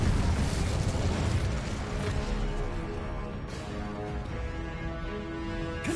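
Incendio fire spell cast in Hogwarts Legacy, a dense sustained whooshing roar of flame with low rumbling booms, steady and loud for several seconds with no pauses.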